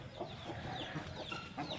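A hen with chicks clucks softly several times in short broken calls, faint and close, with no talking.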